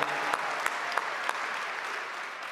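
A conference audience at the Adobe Summit Sneaks 2024 event in Las Vegas breaks into sustained applause, a dense wash of clapping with a few sharp individual claps standing out early on.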